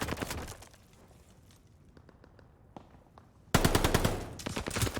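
Rapid automatic gunfire from a shooter video game during a playoff esports match, loud bursts at the start, a quieter stretch of scattered shots, then a sudden heavy barrage of sustained fire.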